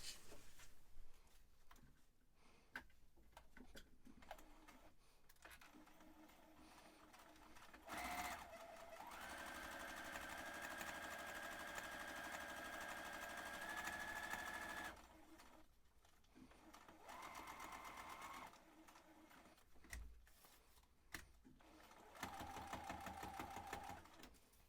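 A sewing machine stitches the final seam on a pleated fabric pocket face mask, its motor whirring in several bursts of varying length separated by short pauses and handling noises, fairly close and steady while running.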